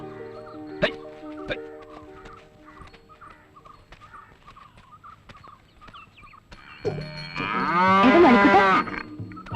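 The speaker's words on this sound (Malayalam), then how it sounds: "തോമസൂട്ടി, ദേ പശുവിനെ ചോട്ടിക്കാൻ ആള് വന്നു." A cow lets out one loud, drawn-out moo close by in a Malayalam film's village scene, following several seconds of quieter farmyard sounds and scattered knocks.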